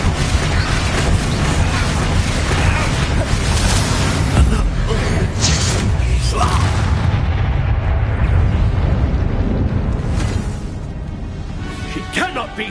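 Bombarda spell blast in the video game Hogwarts Legacy, a loud sustained explosive roar with crackling bursts over dense game-action noise, fading near the end.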